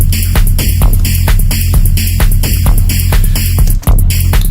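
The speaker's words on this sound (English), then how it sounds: "The kick is coming up a little bit. It's a bit more clean because there's a bit less reverb on the impact." A hard techno kick drum with less reverb on the impact, pounding in a steady, driving four-on-the-floor pattern under a dense, loud mix of bass and hissing high-end layers, with one brief dropout near the end.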